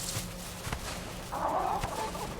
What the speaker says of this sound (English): They're synchronized chirping. There are so many chickens.